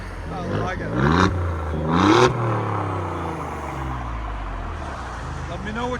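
A 2023 Alfa Romeo Quadrifoglio with a 2.9L V6 and resonator delete blips its exhaust in two sharp, loud revs close by, each falling back before the engine settles into a rough, throaty idle.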